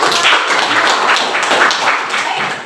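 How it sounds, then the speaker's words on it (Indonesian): Pupils in a classroom clap together in steady, dense applause that lasts the whole stretch and stays loud and close. "beri tepuk tangan terlebih dahulu"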